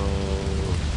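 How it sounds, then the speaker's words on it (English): Rain in the video game Lethal Company pours in a steady, dense hiss of drops on surfaces, close and continuous over a low rumble, with no talk. "Yeah, it's raining."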